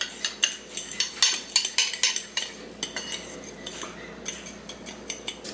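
A spoon clinks and scrapes rhythmically against a bowl while stirring pectin for grape jelly, making quick, close metallic taps that slow and soften toward the end.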